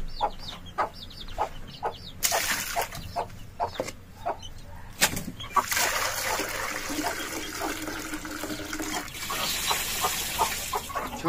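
Water poured onto the ground in a chicken enclosure to make a cool resting spot during hot weather, a broad splashing wash arriving in bursts among repeated clucking and crowing from nearby chickens.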